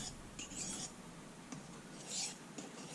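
Light single sharpening strokes of a blade across the fine side of a silicon carbide stone, a few soft raspy rubbing passes at moderate distance with quiet gaps between them.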